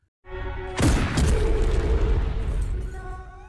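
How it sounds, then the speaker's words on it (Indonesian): A single heavy gunshot-like boom in a film, a loud sudden blast followed by a sustained rumbling tail, with a held musical tone before and after. "ayah Ronak menembak Geja lagi hingga ia tumbang di tanah"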